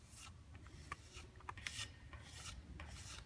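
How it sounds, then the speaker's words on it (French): A sander works filler smooth on a metal gate being prepared for paint, giving a steady close rasping scrape with rhythmic strokes and brief louder passes, no voices over it. "je vais poncer avec la ponceuse là où il y a le papier poncé dessus"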